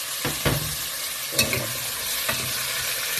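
Tomatoes cook in a pan with a steady, moderate sizzle, punctuated by a few scraping stirs and clacks of a utensil against the pan, no voices.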